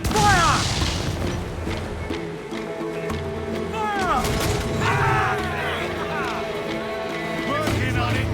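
Ship cannons firing in the video game Assassin's Creed IV Black Flag: heavy booms and crashes rumble through a constant roar of naval battle, while crew voices shout over the chaos.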